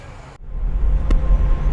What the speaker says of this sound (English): So we're actually driving on the highway